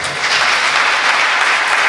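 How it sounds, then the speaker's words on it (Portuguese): A church congregation at a Pentecostal service claps together in a loud, dense burst of applause, close and sustained for a couple of seconds. "Pode aplaudir."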